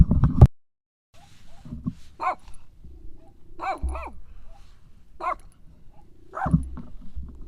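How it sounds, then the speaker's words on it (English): Short, sharp barks from a dog at a BLM campsite at sunset, near and loud, coming in irregular bursts of one or two with quiet gaps between them. "Yuki, what are you barking at?"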